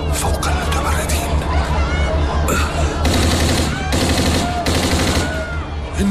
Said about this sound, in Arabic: إنه رصاص زائف فعلا.